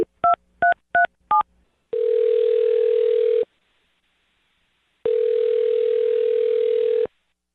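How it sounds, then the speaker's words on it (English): A telephone dialing a number: a quick run of four DTMF keypad beeps, then two long, steady ringback tones separated by a pause, clear and close with no speech. "I'm going to dial her phone number right now"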